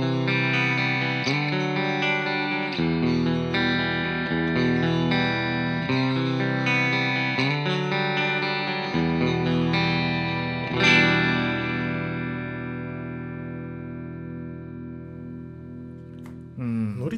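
Electric guitar drenched in heavy effects, recorded through a Type 85 DI box, plays shimmering chorused chords in a steady pattern, then lets a final chord ring out and slowly decay, loud and close.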